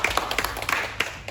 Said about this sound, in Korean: 오늘 말씀 전해주신 목사님을 위해서 같이 감사의 박수 드리겠습니다